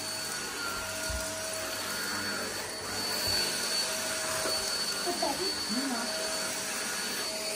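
A new small vacuum cleaner runs with a steady, fairly faint whirring hum, with people talking quietly over it and a few soft knocks.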